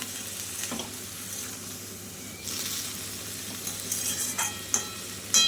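Water hits frying vegetables for a mixed vegetable ghyat, raising a soft, close sizzle with a few light stirring scrapes and clinks.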